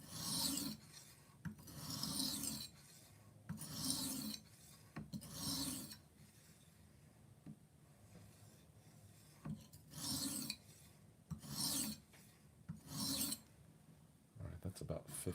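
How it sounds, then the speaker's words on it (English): A kitchen knife stroked repeatedly across a coarse whetstone gives a steady, rasping scrape, about a dozen close strokes in rhythmic bursts with short pauses between them. "With this much stone and that much of a blade, this will go pretty quick."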